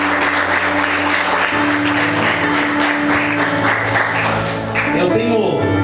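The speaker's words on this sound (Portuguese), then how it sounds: "Vamos aplaudir o Senhor bem forte" Loud, sustained applause from a church congregation fills the whole stretch, with music or voices running underneath and a brief dip near the end.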